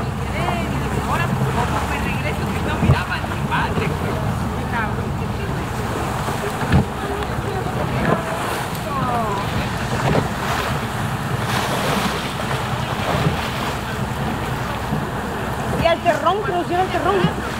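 A motorboat rocks and bumps across choppy water at Roca Partida, with wind buffeting the microphone, splashing waves and voices talking over the steady engine noise.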